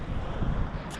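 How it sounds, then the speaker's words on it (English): Steady wind buffeting a sailboat riding at anchor in choppy water, a broad constant rush with low gusty rumble throughout and no talking. "And it's still windy, it's still a little choppy."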